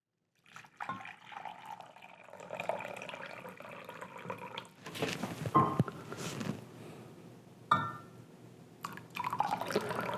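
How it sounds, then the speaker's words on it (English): Boiling water poured into a pouch of freeze-dried fajita meal, a close trickling and splashing stream that surges louder midway, pauses briefly and resumes, with no talking. "So this one takes 1 cup of boiling water."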